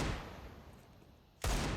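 Desert Eagle pistol fire in a Counter-Strike match on the Anubis map: a quiet stretch of game ambience, then one loud, abrupt blast near the end.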